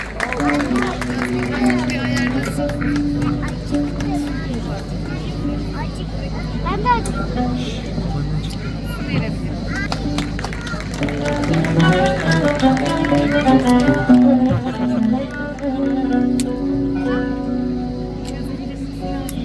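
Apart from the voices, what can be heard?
audience applause at choir concert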